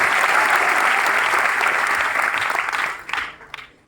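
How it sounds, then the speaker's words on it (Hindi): An audience applauds loudly and steadily for several seconds at a gathering, then the clapping thins into a few scattered claps and fades out. "जोरदार ताली रेणुराज के लिए चाहिए।"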